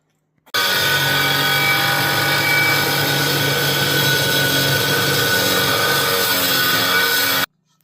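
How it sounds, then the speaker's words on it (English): An angle grinder cutting metal parts off for a homemade snow sled build, a loud, harsh, continuous whine that starts suddenly, holds steady for several seconds and then stops. "So I got one more to grind off."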